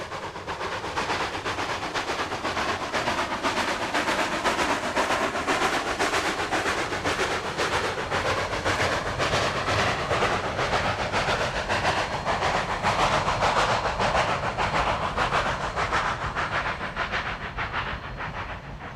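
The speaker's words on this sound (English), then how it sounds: "Our train moves along quickly past thick groves of aspen trees in an area called the Narrows." Cumbres & Toltec steam train running fast along the tracks past aspen groves in the Narrows, with a steady, loud rolling roar and rhythmic wheel clatter that rise and fall slightly throughout, no voices.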